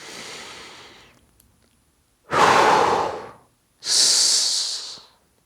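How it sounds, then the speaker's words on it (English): A person lying on the floor during a shoulder-release exercise breathes deeply, with a soft exhale followed by two loud, long breaths taken close to the microphone. "So I breathe in, keeping my lower back against the floor all the time."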